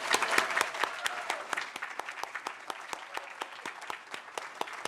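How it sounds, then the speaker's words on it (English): At an award night, an audience claps in a steady round of applause, many crisp hand claps overlapping in a lively rhythm that holds at moderate loudness throughout. "Can we do one more round of applause?"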